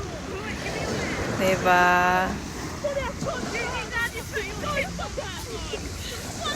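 Sea waves wash onto Brighton beach as a steady surf rush under wind noise, with someone talking over it and a brief tonal blip midway.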